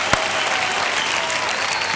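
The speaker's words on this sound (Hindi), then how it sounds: "तालियां" Studio audience applause on the Dus Ka Dum game show, a steady dense clapping that fills the whole stretch at close range, with no voices on top.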